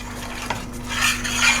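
Green curry paste is stirred in a pan for Thai green curry, a spoon scraping and clinking against the metal with a light sizzle beneath, nearby and fairly loud, over a low steady hum.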